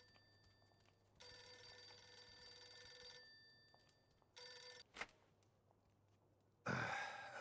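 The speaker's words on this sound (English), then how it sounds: "Let's actually answer the phone before we end the episode." Telephone in Mafia II rings in bursts of a bright bell, two longer rings separated by a pause, over a low steady hum, followed by a louder noisy rustle at the end.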